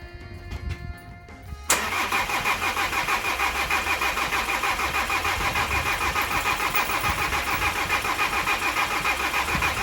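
Volkswagen Crafter diesel engine with a repaired broken timing belt, cranking briefly and then catching and settling into a steady, loud, close idle.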